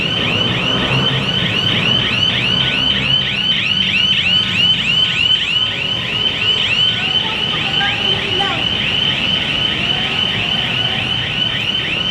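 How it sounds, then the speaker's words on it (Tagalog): A car alarm wails on a city street in the Philippines with a rapid, repeating high-pitched warble. It stays loud and continuous over busy traffic and street noise throughout. "May alarm."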